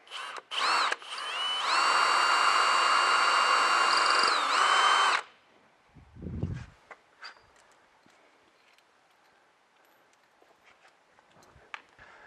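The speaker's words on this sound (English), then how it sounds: "I'm going to drill the second hole on the bottom of the oval hole" A few quick trigger taps, then a power drill runs steadily for about three seconds, boring a mounting hole for a hoist crank unit, its pitch shifting as it bores; quiet clunks and handling sounds follow.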